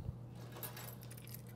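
Original keys for a Toyota Tercel jangle and clink together in a brief close-up burst of bright metallic rattles over a low background hum.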